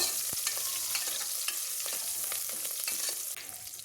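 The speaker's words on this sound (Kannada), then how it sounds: "ಇವಾಗ ಈರುಳ್ಳಿ ಮತ್ತು ಕರಿಬೇವನ್ನ 1 ನಿಮಿಷ ಫ್ರೈ ಮಾಡ್ಕೊಬೇಕು." Chopped onion and curry leaves fry in hot oil for a sprouted-gram sambar tempering, a close, constant sizzle with regular scraping taps of a spatula stirring the pan.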